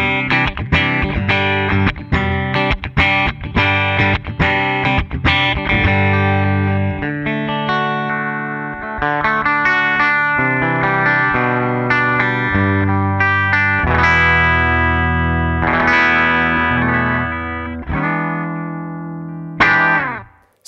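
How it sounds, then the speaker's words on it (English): A Washburn Parallax PXL-100 B electric guitar plays through heavy distortion, with punchy, chugging palm-muted chords and sustained ringing notes, loud and dense throughout before fading out at the end. "a short little review and some sound bites of the extremely sleek, beautiful, thick sounding Washburn Parallax PXL-100 B"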